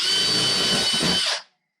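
Power drill boring into a snapped surfboard to make holes for dowels, a loud close steady whine that runs continuously and then cuts off abruptly, followed by silence.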